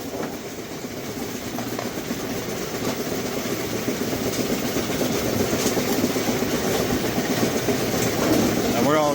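An A2 bowling pinsetter runs after a jackshaft replacement, giving a continuous rattling, clattering mechanical drone that builds slightly and stays loud throughout.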